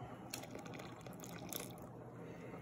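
Buttermilk poured into a bowl for Southern cornbread batter, a steady, soft liquid stream with a continuous gurgling trickle, close and moderately quiet, no talking.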